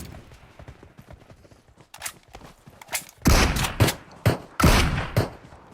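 AKM assault rifle fire in PUBG Mobile, several loud bursts of close gunshots in quick succession following quieter footsteps and movement noises, with no speech.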